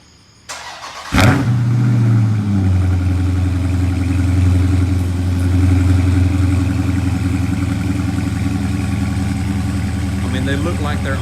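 2018 Dodge Charger Scat Pack V8 on a summer cold start: a starter whir, a sharp loud catch and flare, then a strong steady rumbling idle close by, easing slightly toward the end.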